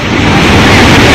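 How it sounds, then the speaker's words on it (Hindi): Roaring floodwater surges in heavy waves through Morbi, Gujarat, a loud, dense, continuous rushing roar filling the whole moment. "शोर मचाती पानी की लहरें खौफ पैदा करने वाली हैं।"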